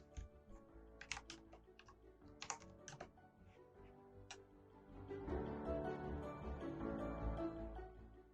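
Typing on a computer keyboard, with quiet scattered keystroke clicks at first, then denser, faster, steady key tapping in the latter half.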